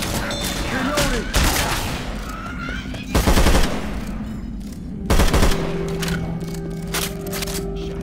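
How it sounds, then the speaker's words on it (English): Shotgun and rifle fire at armored zombies in Left 4 Dead 2, with heavy blasts in a few loud bursts over a constant din of game noise and scraping, close and harsh. "Shoot the armored zombies in the back."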